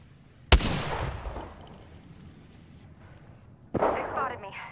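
Gunfire in the battle royale video game Apex Legends: a sharp loud shot bursts out, decays into rumbling echo, then a second burst of shots follows, with game voice lines partly overlapping.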